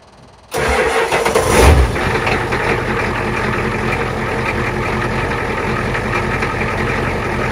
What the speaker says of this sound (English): So let's see what a glow plug cold start works like.